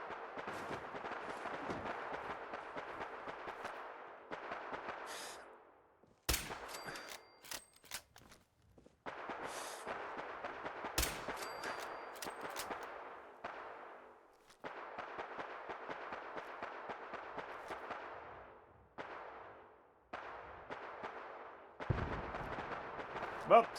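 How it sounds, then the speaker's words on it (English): Distant explosions in Fallout 4, with repeated rumbling bursts and sharp cracks spread across the scene between quieter gaps, heard under game ambience. "Well, stuff's exploding over there"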